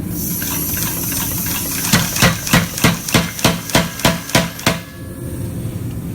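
Steel chef's knife blade being hammer-forged at the bolster area of an integral tang: about nine evenly spaced, ringing hammer blows in quick rhythm over a steady forge roar and hiss, close and loud, with no talk.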